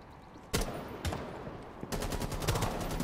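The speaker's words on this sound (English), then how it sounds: "oh, you shot someone? You shot her." Gunfire in Rainbow Six Siege, with a sharp shot followed later by a burst of rapid automatic fire at moderate distance over quiet game ambience.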